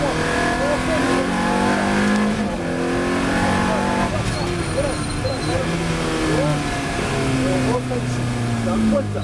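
A Ferrari F430 Challenge engine accelerates on a race track, rising and falling through gear changes in a loud, close in-car roar, with a coach talking over it in French.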